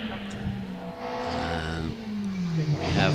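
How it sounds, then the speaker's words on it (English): At the Wiscombe Park hillclimb, a Stuart Taylor Rolt modified specialist production car races across parkland, its engine note climbing and changing through gears as a commentator talks over it. "We have going across the parkland Phil Pern with the Stuart Taylor Rolt"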